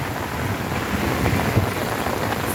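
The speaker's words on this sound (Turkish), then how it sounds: "Gök de güllüyor arkadaşlar." Thunder rolls during a heavy rainstorm in Antakya, a low rumble rising under the constant hiss of falling rain, with no voices.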